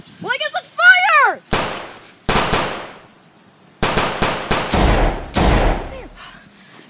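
Battle gunfire from a war film rings out in loud, sharp bursts and single cracks separated by short gaps, preceded by a brief shouted voice.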